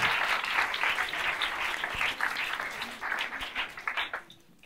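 A studio audience applauds a participant named Paul at an improvised storytelling show, a dense wash of many hands that swells, holds and then thins out toward the end.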